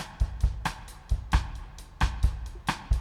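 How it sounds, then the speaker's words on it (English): A drum beat with punchy kicks and crisp snare hits repeats in a steady groove, two drum parts layered, one very faint, so the hits sound thick, moderately loud with no voices. "There's actually two drum parts going on at the same time."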